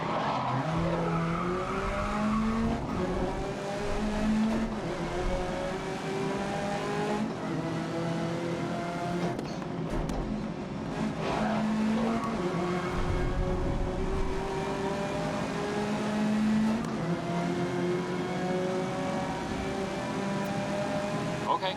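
Race cars in GRID 2019 rev and shift through the gears, engines rising and falling in repeated sweeps while tires squeal and skid, loud and continuous throughout with a faint voice now and then.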